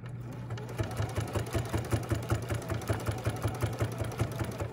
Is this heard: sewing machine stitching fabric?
yes